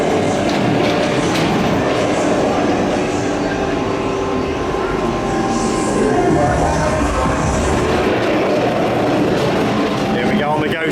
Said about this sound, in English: Here we go on the Ghost Train.